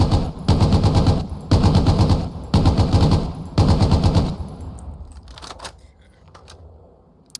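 A British weapon in the video game Hell Let Loose fires four loud, close bursts of rapid automatic gunfire, each about a second long with short gaps, followed by fading echo and faint clicks.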